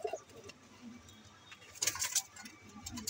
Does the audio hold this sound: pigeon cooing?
yes